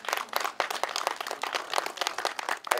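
An audience claps steadily at a local community walk-event gathering, dense applause holding throughout without pause and without any talk.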